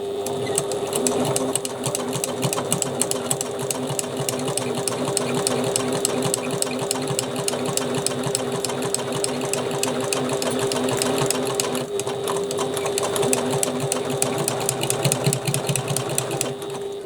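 A sewing machine stitches a bag lining in a fast, steady mechanical chatter, running close and continuously with only brief dips in pace.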